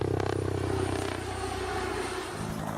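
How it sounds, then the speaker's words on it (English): Steady low engine drone and whirring rotor noise from a military helicopter, a continuous loud hum with a faint rhythmic beat, heard alone and close throughout. "the normal chop, chop, chop sound from a helicopter"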